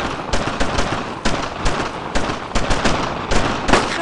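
Gunfire in the World War II shooter game Brothers in Arms: Road to Hill 30, dense sustained bursts of rifle and machine gun shots cracking loudly and continuously, with no talking.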